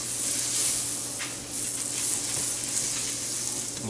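Butter sizzling in a new, poorly seasoned pan over very low heat, a steady soft crackle and hiss close by, with no talking.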